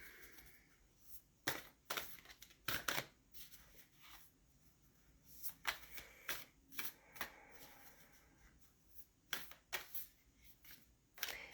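Tarot cards being shuffled by hand during a card reading, with quick riffling bursts and soft slaps coming in irregular clusters, close but fairly quiet, with a few pauses between them.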